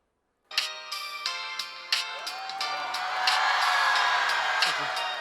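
A slide mobile phone from the mid-2000s plays its ringtone, a bright, repeating electronic melody heard up close, soon joined by an audience whooping and cheering.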